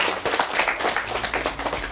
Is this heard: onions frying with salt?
no